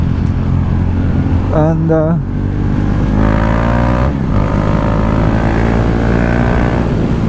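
A KTM 390 Duke motorcycle engine hums steadily while riding, with a brief rising whine partway through and a voice talking over it.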